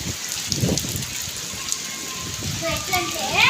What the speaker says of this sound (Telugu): ఫుల్ వాన వస్తుంది